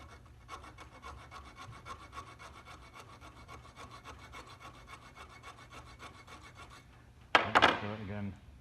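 A hacksaw cuts through the steel armour strands of a cable while a Hawke 453 universal gland is being fitted. Steady, rhythmic rasping strokes repeat close by for several seconds, then end in a short, louder metallic clatter.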